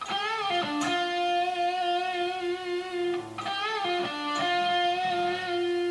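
Electric guitar playing a lick, with sustained distorted notes ringing out in a slow phrase, a few picked changes and bends, loud and close with no voices.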